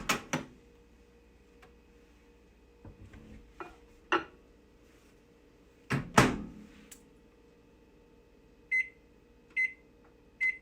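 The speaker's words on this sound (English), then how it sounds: "heat up the vegetable oil in the microwave until it is 85 degrees Celsius" Vegetable oil heats in a microwave oven: a door thuds and clatters shut, buttons clunk, a low hum runs underneath, then three short electronic beeps sound near the end.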